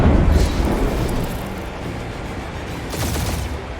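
Gunfire in the video game Marvel's Guardians of the Galaxy, a dense, loud stream of rapid shots and booms that continues through the clip and swells again near the end, with no talk over it.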